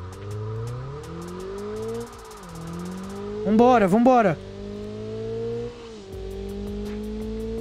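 A car engine in the BeamNG.drive driving game, traction control off during a points challenge, revs in rising and falling sweeps with a brief louder burst midway, while someone talks excitedly over it.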